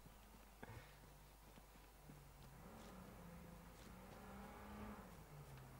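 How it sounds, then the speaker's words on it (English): A car engine drones at a distance in the video game H1Z1, its low hum rising and falling in pitch as it drives past, with no talking. "I hear a car."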